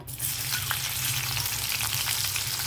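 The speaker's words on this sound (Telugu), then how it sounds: "మనము ఎండినెత్తళ్ళు ఆయిల్లో ఫ్రై చేసి తీసేయాలి" Dried fish frying in hot oil in a home kitchen, a steady, loud sizzle and crackle that starts abruptly as the pieces go in and continues evenly, with no talking.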